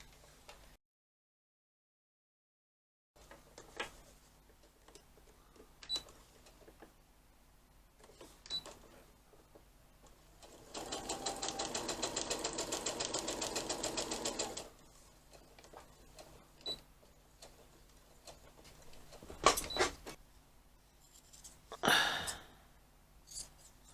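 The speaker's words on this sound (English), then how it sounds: "sewing from there to there, leaving a gap, a turning gap, and sewing from there to there" A sewing machine stitches fabric for a small make-up bag, running in one steady whirring burst of about four seconds midway, with quiet handling clicks and rustles around it and a short silent gap early on.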